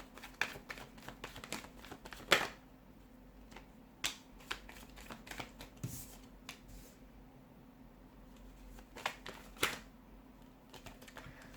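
Tarot cards shuffled softly and close by, producing scattered light flicks and taps in an irregular rhythm against a quiet, humming room.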